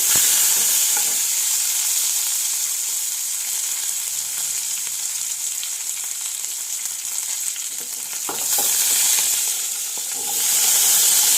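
Mustard seeds, curry leaves, ginger and garlic fry in hot oil, a steady, close, loud sizzling hiss that stays continuous and swells slightly near the end.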